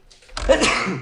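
A single sharp human sneeze, close and loud, bursting out after a brief quiet intake of breath.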